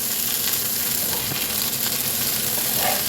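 Fish fillets sizzle steadily in hot oil in a pan, a continuous close crackling hiss with no pauses, the pieces just turned to fry the second side.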